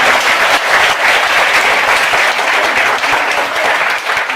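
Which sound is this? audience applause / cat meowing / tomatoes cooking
audience applause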